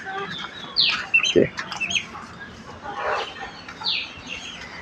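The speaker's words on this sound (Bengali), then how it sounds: "এই যে আমার দেশি মুরগির বাচ্চা।" Native deshi chickens and chicks cluck and chirp nearby in short, irregular bursts, with some high peeping calls mixed in over quiet background noise.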